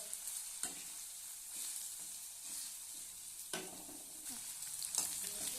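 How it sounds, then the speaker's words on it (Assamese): Two eggs stirred and frying with red amaranth greens in a pan, a soft steady sizzle broken by a few sharp utensil scrapes and clicks, fairly quiet with no talking. "ডিম কণী দুইটা কণী দি দিছোঁ ইয়াতে লৰাই দিম আমি ভালদৰে"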